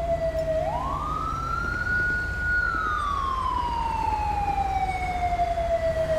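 An ambulance and fire truck siren from the video game GTA V rises in a long wail, then slowly falls, loud and steady over a continuous engine rumble, with no talk.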